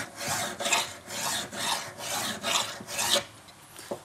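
Worn hand file rasping metal while crafting a dog tag, about seven slow, even back-and-forth strokes in a steady rhythm, close and clear with no talking.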